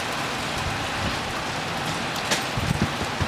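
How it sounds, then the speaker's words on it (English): Steady rain falls outside during a thunderstorm, making a dense, even patter with a few sharper drops near the end. "Is that rain?"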